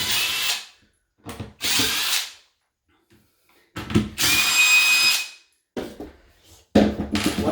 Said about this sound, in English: I'm going to remove 4 screws.